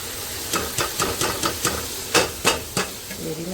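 Dry spices, including dried plum, turmeric and chili, stirred into a frying pan while cooking biryani, a series of about eight sharp scraping strokes of the spoon over a soft sizzle, with faint clatter at the end.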